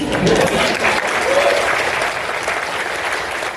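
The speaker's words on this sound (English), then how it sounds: "Thanks for giving him a big welcome applause." An audience at a TV writing panel at San Diego Comic-Con 2023 gives sustained, dense welcome applause from a large crowd, loud and steady, then gradually easing.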